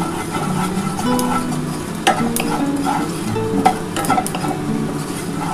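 Panch phoron spices sizzle in hot oil in a pan while raw mango pickle is being made, a steady crackling fry with stirring scrapes and occasional soft clinks, heard close up with no talking.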